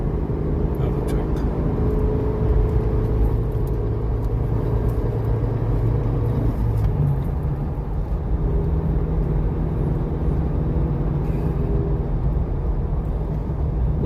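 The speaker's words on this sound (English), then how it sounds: "Another truck." A truck passes on an expressway heading to the Badaling Great Wall near Beijing, a steady engine rumble and road roar heard from inside a moving vehicle while people talk.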